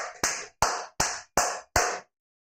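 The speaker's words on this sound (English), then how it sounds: "Let me clap for you, man." Five sharp, evenly spaced hand claps from a single person, close and fairly loud, each with a short room tail, followed by silence.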